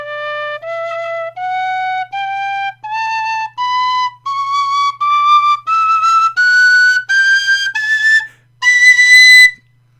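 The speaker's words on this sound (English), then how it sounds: "This is a Clare whistle." A $30 Clare tin whistle plays clear, bright single notes stepping upward through the scale, each held about half a second with short breaths between, the final notes louder and shriller, with no talking.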